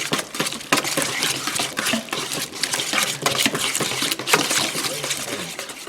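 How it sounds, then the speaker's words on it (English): A liquid mixture seasoned with salt gets stirred in a bowl for a vegetarian appetizer, a steady run of wet sloshing with clinks of utensil against the bowl, close and fairly busy, with no one talking. "Okay, let's give it a stir."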